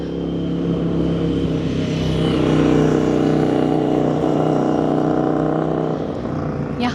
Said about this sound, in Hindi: तो अभी आपने देखा एक बाइक जा रही थी।